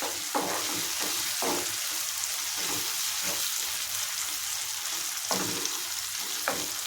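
Capsicum fries with ginger-garlic paste in a covered pan for a brinjal and barbati curry, giving a steady close sizzle with soft, irregular bubbling pops throughout.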